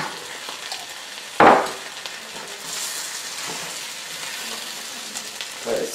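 Philly chicken hoagie filling of chicken and melting cheese stirred in a pan, a steady soft sizzle throughout with one sharp scrape or clatter of the utensil near the start and a quieter knock at the end.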